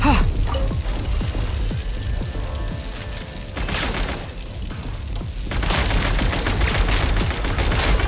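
Gunfire and explosive booms from the video game Genshin Impact, set in a snowy Everwinter zone, with dense bursts of shots and blasts running loud throughout, easing briefly in the middle before intensifying again.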